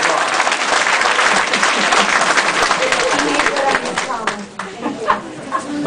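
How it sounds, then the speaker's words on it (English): Audience applause at a Latina leadership summit, a dense, loud burst of clapping from a crowd with some chatter, fading and breaking up toward the end. "clap yourselves an applause"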